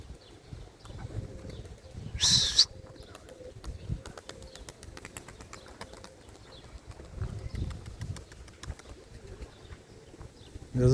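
Racing pigeons returning from flight flutter and shuffle nearby, with soft cooing and a sudden burst of flapping wings amid quiet outdoor ambience.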